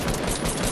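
A dense, loud burst of rapid gunfire in Fortnite, shots blurring together into a continuous crackle for under a second.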